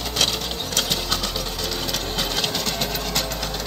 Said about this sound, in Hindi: और इतने बढ़िया से ये रोटावेटर को चला रहा है